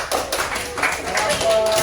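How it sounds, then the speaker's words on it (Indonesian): Classroom applause for a student group after a presentation, a short patter of many hands clapping together with children's voices and chatter mixed in. "Tepuk tangan untuk kelompok"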